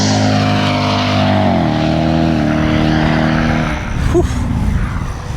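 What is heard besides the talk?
2005 Cadillac XLR convertible accelerating hard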